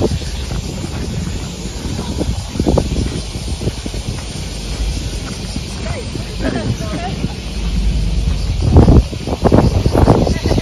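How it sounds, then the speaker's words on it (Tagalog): Strong gusts buffet the microphone in an open sunflower field at a seaside park, a rough rumbling roar that swells louder toward the end, with a voice speaking briefly underneath. "Ang lakas kasi ng hangin"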